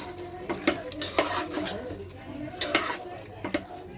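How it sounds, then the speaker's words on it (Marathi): Spoon stirring yogurt into chicken pulav in a cooking pot, with repeated scraping and clinking strokes against the metal, a faint sizzle running underneath at close range. "हे दही मिक्स करून घ्यायचं त्याच्यामध्ये."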